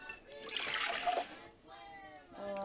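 Warm water poured from a cup into a bowl while making pretzel dough, a loud splashing gush for about a second, then tapering into quieter trickles at close range.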